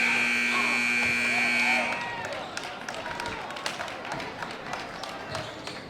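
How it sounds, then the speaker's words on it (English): A game-ending buzzer sounds at a high school varsity basketball game, a steady loud tone for about two seconds, then crowd noise, claps and an announcer's voice take over. "At the buzzer"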